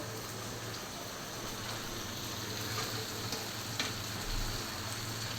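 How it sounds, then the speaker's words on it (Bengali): Iftar snacks such as beguni frying in hot oil, a steady close sizzle and crackle running throughout with occasional brief pops and clinks. "আম্মার বাসায় ইফতার ভাজা হচ্ছে"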